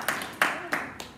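Congregation clapping hands during a church worship celebration, four sharp broadband claps spaced roughly a third of a second apart, fairly faint with a short roomy tail after each.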